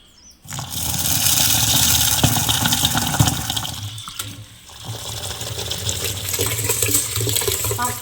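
Soaked urad dal and rice are washed in water, with close, loud sloshing and splashing. A short lull comes midway before the washing picks up again.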